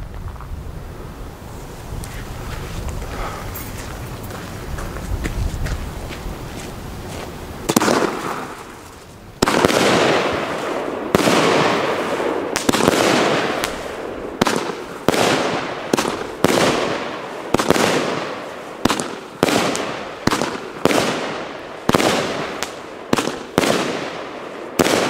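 An Argento Primavera 13-shot 30mm firework battery goes off outdoors after a soft hissing fuse, then fires a rapid series of loud sharp bangs in quick succession, each followed by a brief crackling decay, heard alone with no voices.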